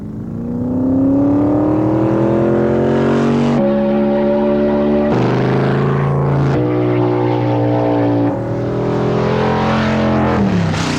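Race cars run speed trials on the dusty dry lake bed at El Mirage, with a loud, sustained engine roar whose pitch shifts and drops between runs across eleven seconds.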